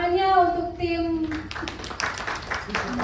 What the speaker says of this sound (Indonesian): tepuk tangannya untuk tim